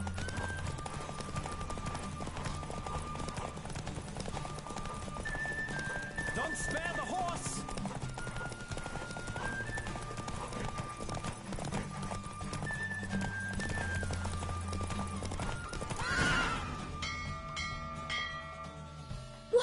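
A horse gallops hard during a race in The Witcher 3 video game: steady, rapid hoofbeats under game music, with a whinny and a bell-like tone partway through.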